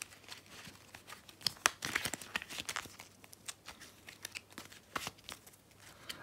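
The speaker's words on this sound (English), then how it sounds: "Just going to keep shuffling until I feel ready." Deck of tarot cards being shuffled by hand, with soft irregular riffling and crisp snapping flicks close up, quiet and with no voices.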